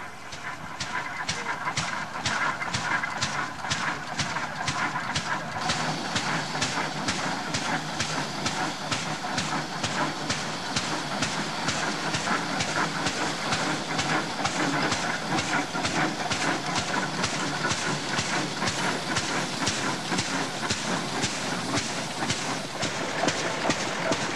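A 1911 Rumely OilPull model 1530 one-cylinder oil-cooled tractor engine, a 16,500-pound machine at a tractor museum, runs steadily with a dense, even rhythm of exhaust beats and hiss throughout, loud and close.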